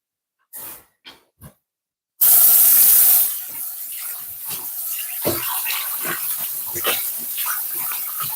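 Tap water runs steadily over food in a kitchen sink, a loud gush that settles into a constant stream with small splashes and knocks, after a few brief handling sounds.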